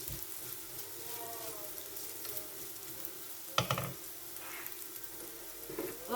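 Water poured into a hot pan while cooking Brussels sprouts, a steady close sizzle and hiss with a sharp louder burst of spitting midway and another flare near the end.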